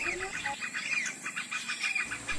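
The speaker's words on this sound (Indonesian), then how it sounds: "Ini kita panggil semua burung pakai speaker." Wild birds called in with a loudspeaker chirp repeatedly in short, rhythmic tweets that stay fairly close and clear, with no talking over them.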